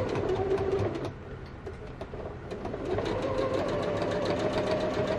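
A sewing machine running over quilt fabric to reinforce weak stitching, its rapid mechanical clatter pausing briefly near the start, then resuming steadily at close range.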